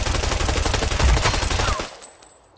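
Rapid automatic rifle fire in the shooting game Arena Breakout, a loud continuous burst of closely spaced shots that stops abruptly and leaves a faint ringing tail.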